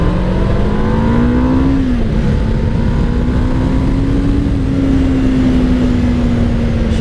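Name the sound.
Kawasaki Ninja EX500 motorcycle engine revving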